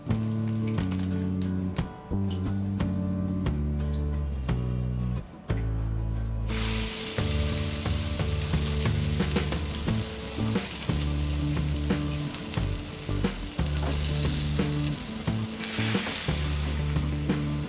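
Cabbage appam shallow-fries in 3 to 4 tablespoons of oil in a pan over low flame, a strong continuous sizzle that jumps louder and brighter partway through, with frequent spatula scraping and clinks, no talking.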